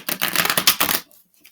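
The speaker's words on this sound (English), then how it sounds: "So we're going to shuffle 2 more times" A deck of tarot cards is shuffled in one brisk, close riffle lasting about a second, then stops.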